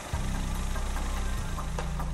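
A car engine idling during an exhaust gas analysis, with a steady low rumble and faint mechanical ticking that runs nearly unchanged throughout, with no one speaking.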